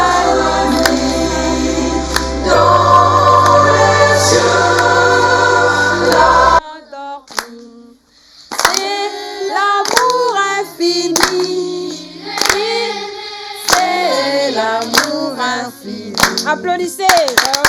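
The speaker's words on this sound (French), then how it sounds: "Applaudissez." An audience at a Christmas gathering with children claps after a carol. Music plays first, then sharp, scattered claps from several people continue, with voices talking between them.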